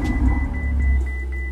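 A sports car engine, an Aventador or Ferrari 488, starts up and settles into a steady, loud low rumble close by, with no voices.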